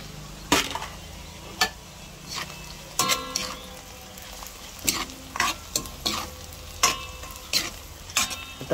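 Kikiam fries in a hot pan while a utensil stirs it, giving a steady sizzle broken by sharp, irregular scraping clacks of the spatula against the pan, close and clear.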